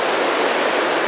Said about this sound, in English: I can sit and listen to river noise all day